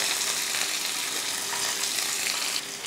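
Chopped onion and green chillies sauté in a pan with ginger and garlic for an idli kurma, giving a steady, close broadband sizzle that holds evenly throughout with no talk.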